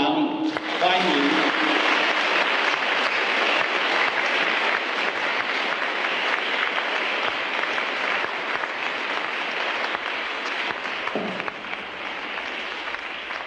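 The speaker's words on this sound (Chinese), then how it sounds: "大家来鼓掌表示热烈欢迎啊！ 大家鼓掌欢迎。" Sustained, dense applause from a large school audience welcoming a speaker to the stage, loud and steady for over ten seconds before thinning slightly near the end.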